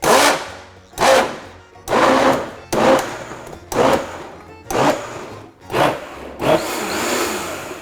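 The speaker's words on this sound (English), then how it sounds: "what we're gonna do at low setting is literally pulse blend our potato by doing like that" A blender on its low setting pulse-blends potato and onions for a puree, with seven or eight short whirring bursts in a steady rhythm and a longer continuous run at the end, loud and close.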